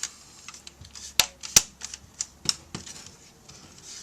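Plastic trim on an HP Pavilion DV4 laptop snaps into place, a few sharp close clicks and small ticks among quiet handling noise, with two especially crisp snaps.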